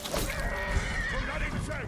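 A horse neighs in the Ghost of Tsushima video game, one short loud whinny rising and falling over game background noise and some talk.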